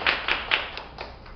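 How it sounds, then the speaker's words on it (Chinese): Applause for a student at a TOEIC English cram school class in Taichung: a short burst of a few people clapping, several sharp claps that thin out over about a second, fairly close with no talking. "我们先给他掌声鼓励一下"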